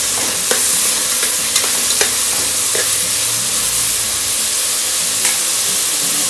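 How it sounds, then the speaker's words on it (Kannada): Tomatoes sizzle and fry steadily in a hot pan while being stirred, with a continuous loud hiss and occasional sharp clicks of the spoon against the pan. "ಟೊಮೆಟೊ ಹಾಕೊಂಡು ಈ ಥರ ನೀಟಾಗಿ ಮಿಕ್ಸ್ ಮಾಡ್ಕೊಳ್ಳಿ."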